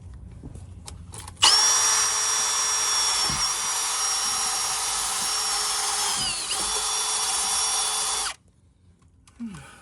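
A power tool with a wire brush scrubbing rust off metal pieces from an old Rialta camper runs at a loud steady whine for about seven seconds, dipping in pitch briefly, then stops abruptly.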